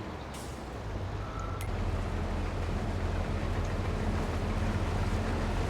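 Steady, loud engine drone with a deep low rumble running throughout from a combine harvester working close by in a paddy field, with no voices.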